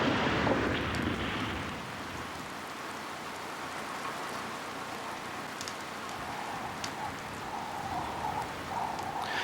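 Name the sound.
rain falling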